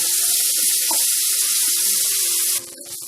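Water drains out of washed broken wheat through a strainer, a loud, steady rushing close by that drops away abruptly near the end.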